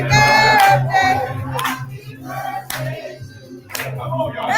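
A crowd at a live Saturday event claps rhythmically in sharp, evenly spaced slaps while people sing a birthday song, the clapping loud and close under the voices.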